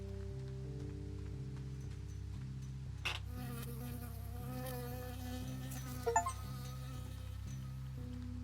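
Bee buzzing in the video game Firewatch: a steady, close insect drone under a low looping hum, with a couple of brief rustling sounds partway through and no talking.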